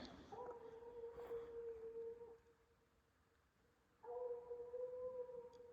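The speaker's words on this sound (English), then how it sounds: "Sounds like June is gonna tree" A raccoon-hunting hound bays on a track in long, drawn-out howls from a distance, pausing briefly before starting again, against a quiet outdoor night.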